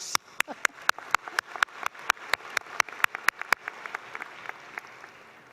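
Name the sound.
commencement audience round of applause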